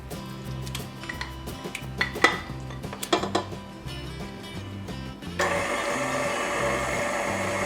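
Pumpkin gets mixed into pumpkin roll batter, a mixer drones steadily in a bowl with clinks and rattles of utensils; midway the whirring grows louder and brighter and keeps running.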